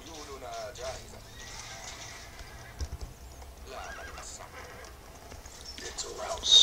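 Horses whinny and neigh repeatedly in the medieval strategy game Stronghold Crusader, several calls over clip-clopping hooves, mixed with game voices speaking over the animal sounds.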